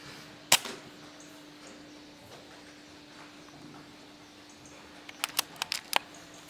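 An air rifle fired at a rat during a daytime rat shoot around straw gives one sharp, close crack near the start, then quiet outdoor ambience and a brief cluster of small clicks.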